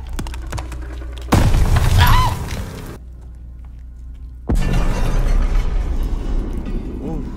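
Grenade blasts in the Call of Duty: Vanguard campaign: a loud booming explosion hits sharply, fades to a quiet stretch, then a second heavy boom rolls on with debris and rumble, with faint game voices around it.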